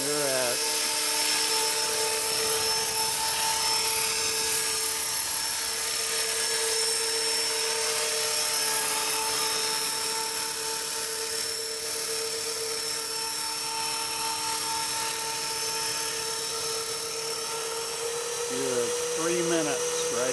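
An Airbus EC135 helicopter fitted with a light kit drones steadily in flight, a loud continuous turbine whine and rotor hum that holds even throughout, with a voice talking briefly over it.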